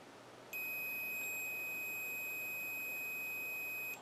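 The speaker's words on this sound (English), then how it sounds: "it started beeping when I touched that middle cable" A quadcopter ESC gives a continuous, shrill, steady electronic beep after a moment of quiet, holding one pitch nearly to the end, close and alone.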